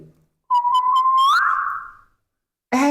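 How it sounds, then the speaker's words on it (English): A single sustained whistle holds one pitch for about a second and a half, then slides upward and fades, followed by a brief noisy burst. "Just think about whistling."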